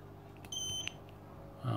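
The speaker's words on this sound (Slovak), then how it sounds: "Píplo." A Chihiros aquarium light gives a short, high electronic beep as it switches on, close and clear against a quiet room, followed by a faint low thump.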